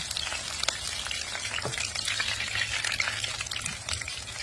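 Bean sprouts frying in oil over low heat until yellow and crisp, giving a steady dense sizzle and crackle that holds throughout at an even level, close by with no talk.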